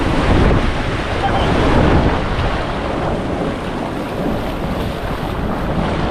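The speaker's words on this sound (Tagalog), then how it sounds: "Medyo may alon-alon ng konti pero kayang-kaya to kasi malaki ang bangka." A boat churns through choppy water, waves sloshing against the hull beneath a steady roar of wind and engine.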